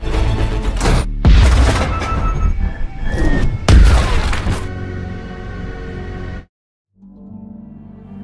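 Enemy gunfire in a war film with a tank under fire: heavy booming shots and bursts of fire, loud and close, in several separated volleys before a brief silence and a low rumble.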